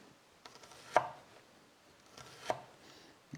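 A knife slices through an onion into rings for a Bavarian cheese spread, giving two sharp chops against a board about a second and a half apart, with fainter cuts in between in a quiet room.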